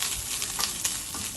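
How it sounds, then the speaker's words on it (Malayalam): Grated coconut fries in a pan until dark brown for Kerala kootu curry, giving a soft, steady sizzle with a few faint scraping stirs. "എന്നിട്ട് ഇത് നല്ല ബ്രൗൺ ആവുന്നവരെ നല്ല വറുത്തെടുക്കണം"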